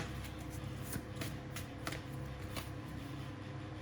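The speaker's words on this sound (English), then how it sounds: "So we're going to grab this pile and I'm going to shuffle for Sagittarius." A pile of tarot cards is shuffled by hand, giving a close, continuous papery riffle and slide with soft flutters and taps, faint and alone with no talk.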